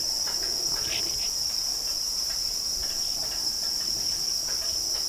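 Crickets chirp steadily in a neighbouring cricket-breeding pond on a farm, a dense continuous high-pitched trill that stays loud and unbroken throughout with no voices.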